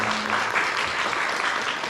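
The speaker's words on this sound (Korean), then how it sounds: "함께 박수로 환영하겠습니다." Church congregation applauding to welcome newly baptized members at a Sunday worship service, a steady, dense burst of clapping filling the room.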